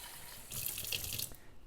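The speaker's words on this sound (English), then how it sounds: "take it over to the sink, and I put a little bit of water in here" Tap water runs briefly into a pot at a kitchen sink, a close, steady splashing gush lasting under a second before cutting off.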